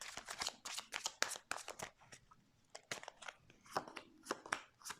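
Tarot cards handled and laid out on a table during a reading, with quick crisp slaps, shuffles and rustles coming in close, irregular bursts and no talk over them.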